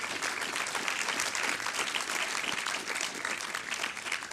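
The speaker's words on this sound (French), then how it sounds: "j'aimerais qu'on l'applaudisse" Audience at a film event applauding a crew member, dense even clapping throughout, steady and moderately loud with no talk over it.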